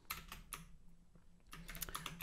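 Fingers type fast on a computer keyboard, close and quiet, in crisp bursts of keystrokes with a brief pause in the middle.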